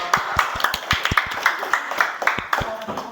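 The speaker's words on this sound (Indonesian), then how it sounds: "beri tepuk tangan untuk kelompok" Students in a classroom clap for a group, a small number of hands giving distinct, uneven claps close by, with voices talking over them.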